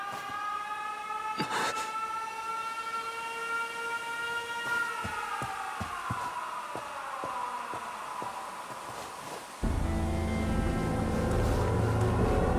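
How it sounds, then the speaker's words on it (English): An air raid siren wails in the video game 13 Sentinels: Aegis Rim, its layered tones holding and then sliding downward, before a louder rumbling burst of noise joins late on. "An air raid. They're trying to bomb the factory."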